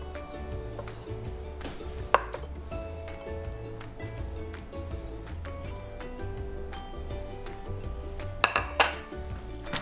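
A knife finely chops garlic on a cutting board for a risotto, giving close, quick irregular taps and light clicks, with an occasional louder knock against the board.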